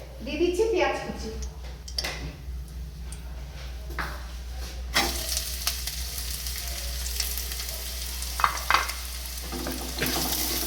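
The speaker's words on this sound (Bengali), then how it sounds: "কয়েক সেকেন্ড ভেজে নিয়ে সুন্দর গন্ধ বেরোলে দিয়ে দিচ্ছি পেঁয়াজ কুচি" Chopped onion hits hot oil already frying with cloves and cumin in a pan; a quieter start with voices gives way midway to a broad, loud, steady sizzle with occasional scraping.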